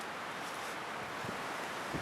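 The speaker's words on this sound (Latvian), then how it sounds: "Vējš poš, mati plīvo." Wind blows steadily outdoors, a continuous broadband rush with low buffeting against the microphone and no voices over it.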